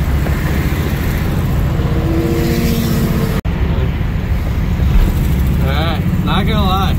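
A 1961 VW Beetle drives through LA traffic, its old engine and road noise forming a loud steady rumble with a brief sharp click midway; someone talks over it.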